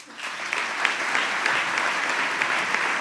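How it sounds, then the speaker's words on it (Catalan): Strong, sustained applause from an audience honouring award plaque recipients at a ceremony, a loud, even roar of many clapping hands rising quickly and holding steady throughout. "Ara demane un fortíssim aplaudiment per a tots aquells als que se'ls ha entregat la"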